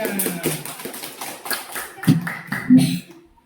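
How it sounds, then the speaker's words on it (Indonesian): Classroom applause for classmates' performance in a school setting, a short burst of scattered hand clapping with a few sharper claps, mixed with voices talking. "Kasih aplaus dulu untuk kawan-kawannya."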